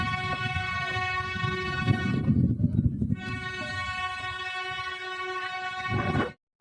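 Ooty toy train running along its mountain line toward Ooty station, a steady close rumble of the cars with a sustained horn tone held over much of the passage before cutting off.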